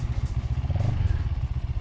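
A small beginner motorcycle's engine revs and pulls with a steady, pulsing low chug, close and fairly loud throughout, with no speech over it.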